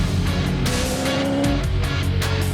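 Supercars race car roaring past at speed with a rising and falling engine note, tyres squealing and a sharp pitch shift as it goes by, loud and near with no talk.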